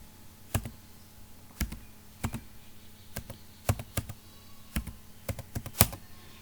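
Keys clack on a computer keyboard as a phone number is typed in a quiet room, coming as sparse single taps and short bursts, close and fairly soft.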